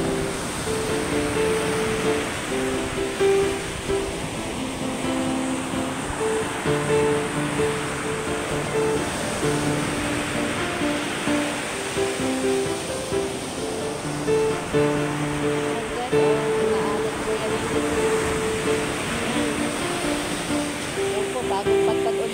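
Large ocean waves roll ashore in a steady, loud roar of surf, carrying big pieces of driftwood onto the beach, with a voice faintly present under the continuous wash.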